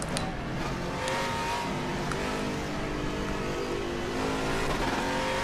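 Race car engine in RaceRoom Racing Experience revving hard and accelerating along a short straight, a loud continuous rising drone with gear-change dips, steady throughout with no voices.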